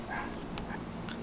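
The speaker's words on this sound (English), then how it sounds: "you might hear my dog in the background" A dog barks faintly a few times in the distance against steady low background noise at a Gatlinburg resort hotel in March, short soft yelps rather than loud barking.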